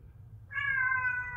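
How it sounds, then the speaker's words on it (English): A house cat gives a single drawn-out meow, close and fairly clear over a low background hum. "I have a house cat here who's meowing."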